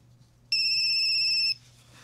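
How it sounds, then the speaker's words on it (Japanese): A telephone ringtone sounds once as a steady, loud electronic tone for about a second in an otherwise quiet room, announcing a call from a manager. "それはマネージャーからの電話だった。"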